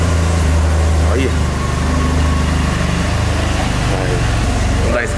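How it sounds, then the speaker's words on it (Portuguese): A BMW F800R motorcycle engine idles steadily with a low rumbling drone, loud and close, continuous throughout with faint background noise. "Esquentadinha nela aqui pra gente ouvir o ronco,"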